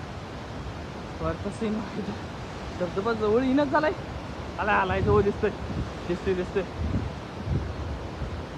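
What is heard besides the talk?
Ojharde waterfall rushing nearby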